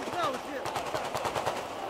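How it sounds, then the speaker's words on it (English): Celebratory gunfire in Tripoli, Libya: rapid bursts of automatic rifle fire crackle steadily at a moderate distance, a dense rhythmic rattle under brief crowd noise. "There is a tremendous amount of celebratory gunfire."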